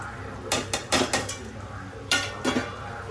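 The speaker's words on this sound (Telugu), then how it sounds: "ఇప్పుడైతే ఈ చేపలు కూడా వేసేసుకుందాము" Dry fish going into a pot of brinjal curry, heard as a few sharp metallic clanks and scrapes of a utensil against the pot in two short bursts, fairly close, with no talk.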